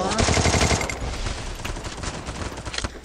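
Rapid bursts of Free Fire gunfire, automatic and loud, crackling continuously with a few sharper individual shots near the end.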